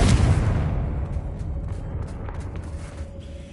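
A Confringo blasting spell explodes in the video game Hogwarts Legacy: one loud, heavy boom that hits at once, then rumbles and decays slowly over a few seconds.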